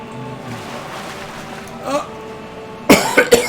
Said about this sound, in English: It's me coughing from a dry throat.